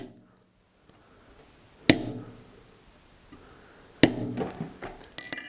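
A metal beveling tool struck with a mallet on cased leather during carving of a valet tray, two sharp isolated knocks a couple of seconds apart with a third starting at the end, close in a quiet room.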